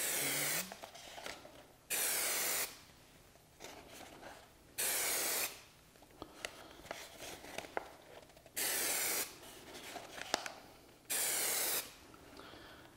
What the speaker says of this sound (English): We're about ready to spray.